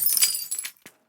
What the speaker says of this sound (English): they manufacture breakaway bottles that can be safely smashed over anything, like sound engineers